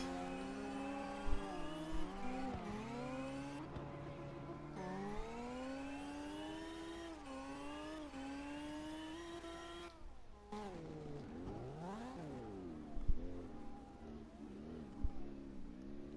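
Mitsubishi Evo engine in CarX Drift Racing revving repeatedly, pitch climbing through each gear then dropping on shifts, followed by bouncing throttle blips near the end, steady and clear with no talk.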